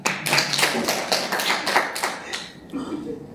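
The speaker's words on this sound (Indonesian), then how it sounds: "Tepuk tangan dulu untuk Tuhan." A church congregation claps hands in a run of about nine sharp, evenly spaced claps, close and loud, then the clapping stops and murmuring voices take over.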